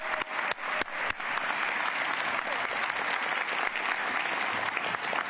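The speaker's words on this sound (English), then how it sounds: "please, one more round of applause for the Owatonna High School choir" Sustained applause from an audience in a legislative chamber for a high school choir, steady and dense for the whole stretch after a few sharp opening claps.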